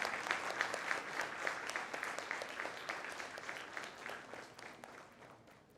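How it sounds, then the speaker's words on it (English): An audience at a conference claps in a steady round that is close and moderately loud at first, then gradually thins and fades over several seconds. "Can we have a huge round of applause, please?"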